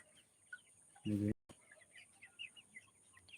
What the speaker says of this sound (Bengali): এই দেখুন বর্তমান মুরগি